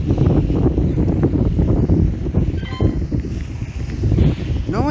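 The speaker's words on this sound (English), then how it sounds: "No idea where this sudden gust of wind came from" Sudden gusts of wind buffet a microphone outdoors, a loud continuous low rumble with choppy bursts throughout, a brief voice faintly underneath.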